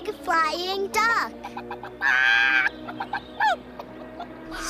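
A chicken clucks and squawks in short, close bursts, mixed in with a voice and other speech on a children's program.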